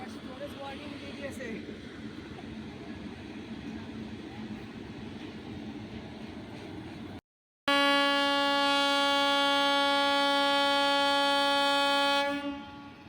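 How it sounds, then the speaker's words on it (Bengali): Long, loud, steady horn of the 13125 Sairang Express at Krishnanagar City Junction, sounding for about five seconds after a stretch of train rumble, then cutting off. "তো একটা লম্বা হর্ন মারার পর ট্রেনটা একটু সামনে গিয়ে এগোবে"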